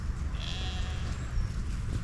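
A sheep on a windy Cotswolds hill trail gives one fairly faint bleat over a constant low rush of wind.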